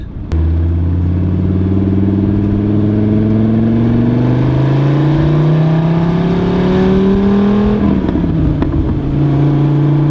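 A 591HP Dodge Viper SRT10 engine revs loudly and close, rising in pitch over several seconds before dropping back with crackling exhaust pops, no talk.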